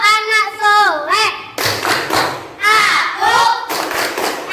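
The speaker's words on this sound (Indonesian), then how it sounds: "Kita akan melaksanakan tepuk anak soleh yang mungkin kalian dulu pernah melakukan di kelas TK, ya." A class of children performs the tepuk anak soleh clapping chant, with rhythmic hand claps and thumps mixed with chanted voices, loud and close, in alternating bursts of singing and clapping.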